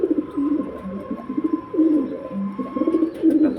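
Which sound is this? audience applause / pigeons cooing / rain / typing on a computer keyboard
pigeons cooing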